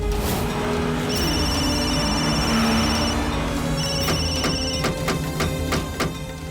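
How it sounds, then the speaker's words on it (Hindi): A telephone rings repeatedly in bright electronic trills over a dense, loud background of music and noise, with sharp hits toward the end and no clear talk. "जल्दी फोन उठाओ।"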